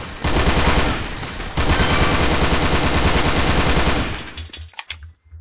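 Loud, close automatic gunfire from the online shooter Sudden Attack, dense continuous bursts running for several seconds before breaking into a few short separate volleys.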